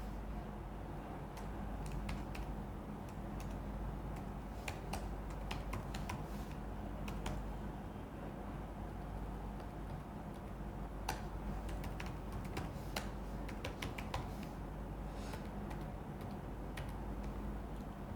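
Steady typing of form details on a computer keyboard, with light irregular key clicks running throughout over a constant low background hum, fairly faint and close, with no talking.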